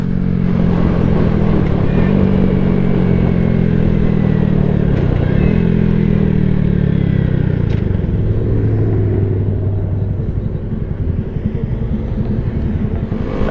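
A 2022 Honda Grom motorcycle engine drones steadily throughout a ride to work, close and loud, its pitch sliding up and down with shifts in throttle amid road and wind rumble.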